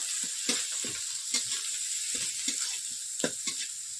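Turmeric powder and coconut paste sizzling softly in oil in a pan, punctuated by regular scraping stir strokes, close and fairly quiet, no talk.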